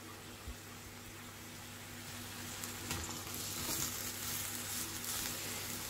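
Pumpkin soup vegetables with sprigs of thyme sauté in a pot, giving a soft, steady sizzle with a low background hum and occasional faint stirring knocks, no one speaking.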